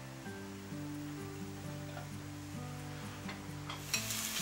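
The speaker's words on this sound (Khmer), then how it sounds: "នៅពេលដែលយើងកូរច្របល់ខ្ទឹមបារាំងឲ្យរាងក្លិនឈ្ងុយបន្តិច" Small-chopped onion sizzles steadily in hot olive oil while being stirred, a close, continuous frying hiss with soft scraping, over quiet background music.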